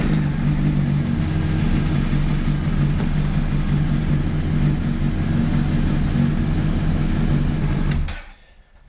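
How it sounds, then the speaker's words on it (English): A car engine runs loud and steady at a low rumble, close by, during a starter test, before it abruptly cuts off and fades near the end. "Now it's telling you to start the engine"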